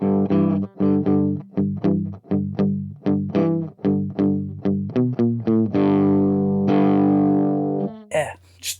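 Electric guitar played through an Audio Assault Blacksun amp with the noise gate, booster and screamer pedals off, giving mild breakup; a run of picked notes and chords, close and fairly loud, ending in a short sustained chord.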